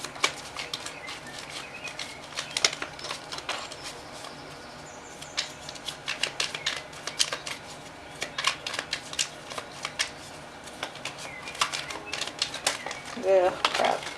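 Tarot cards shuffled by hand, giving a run of quick papery riffles and soft flutters, close and fairly quiet, with occasional faint rustles between bursts.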